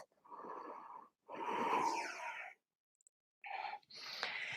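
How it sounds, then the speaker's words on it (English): Four drawn-out, breathy inhales and exhales from a person resting in yoga child's pose, each one soft and airy with short silent pauses between them, close and quiet. "Take a few steadying breaths."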